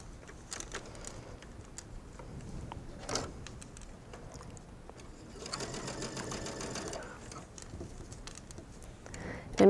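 Sewing machine stitching an elastic hem on a mesh sleeve, in short, quiet bursts of rapid needle patter with pauses and handling noises, fairly faint and close.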